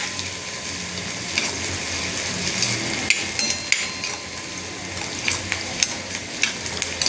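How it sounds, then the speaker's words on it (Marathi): Onions with a squeeze of lemon frying in oil for a homemade paneer butter masala gravy, a steady close sizzle with occasional sharp clinks of a utensil stirring against the pan. "कांद्यावर लिंबाची फोड आली, सर्व एकजीव होईपर्यंत तेलामध्ये फ्राय करायचं"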